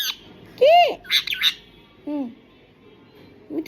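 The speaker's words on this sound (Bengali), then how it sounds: "কই মিঠু পাখি" A parrot lets out a sharp, loud squawk, then a few shorter chirps and another squawk, with quiet gaps between calls.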